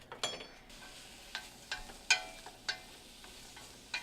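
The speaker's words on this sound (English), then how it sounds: "So that butter's all nice and melting, and I have it on about 3." Butter melts in a pan on low-medium heat, giving a faint, steady background sizzle broken by a few sharp clicks and scrapes of a utensil, close by with no talking.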